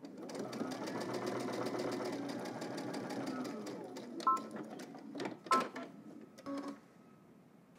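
A sewing machine runs a basting stitch on a garment, a fast even mechanical clatter for several seconds, then shorter stop-start bursts with clicks and beeps between.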